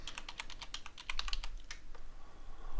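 Quick tapping of keys on a computer keyboard while editing a scenery file in Microsoft Flight Simulator 2020, a soft close run of clicks in an irregular rhythm, heard alone and fairly quiet.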